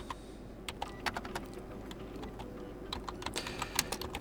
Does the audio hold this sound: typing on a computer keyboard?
yes